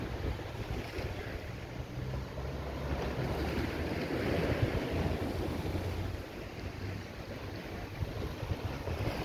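Ocean waves wash onto Holetown Beach in Barbados, a steady broadband surf roar with wind noise across the microphone, continuous and moderately loud with a gentle swell in the middle, no voices.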